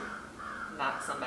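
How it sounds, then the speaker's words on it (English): Loud, harsh cawing from a large bird, a few repeated calls, fairly close and prominent. "Y'all hear that big bird outside?"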